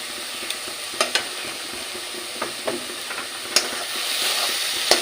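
A spoon stirs a carrot sweet cooking in ghee in a pan: a steady frying sizzle and hiss, broken by sharp scraping taps of the spoon against the pan, close and clear.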